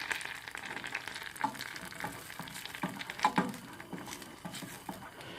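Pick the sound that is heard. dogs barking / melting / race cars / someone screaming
melting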